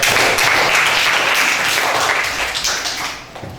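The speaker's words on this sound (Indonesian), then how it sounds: "Beri tepuk tangan yang meriah untuk." A classroom of students applauds a group presentation with dense, loud, continuous clapping that fills the room and then begins to thin out toward the end.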